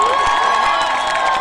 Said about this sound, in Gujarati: જબરજસ્ત તાળીઓ પાડો તમે